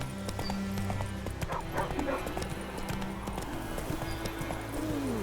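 Horse hooves clip-clop steadily in The Witcher video game, mixed with game sound and voices talking over the rhythmic trotting.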